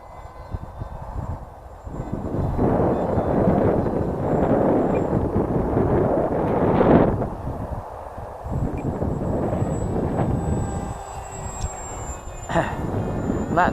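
A radio-controlled model Saab Draken jet passes low overhead, making a steady, close, broad rushing roar with a thin whine on top. The roar swells to a peak near the middle and then eases back to a sustained drone.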